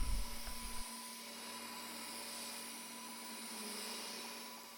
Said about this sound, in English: I'm going to use a atom stack laser engraver to embellish the top and the bottom of the rack